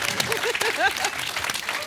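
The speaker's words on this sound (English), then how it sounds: "can we just give him a round of applause first?" Brief audience applause after a presentation, scattered clapping mixed with overlapping voices and cheering.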